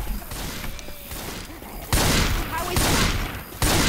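Bursts of gunfire in the video game Left 4 Dead 2 during the Dark Carnival campaign, with loud rapid shots clustered in the second half over a steady game backdrop.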